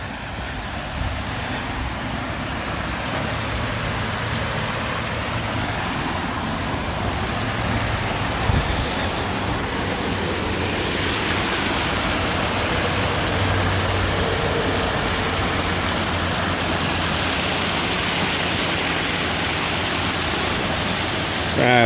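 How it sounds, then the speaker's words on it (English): Constant rushing roar of a flooded waterfall on the Ohio & Erie Canal Towpath Trail, dense and hissy like heavy rain, holding steady throughout with a faint low hum beneath. "A little bit of waterfall here I want to show you guys."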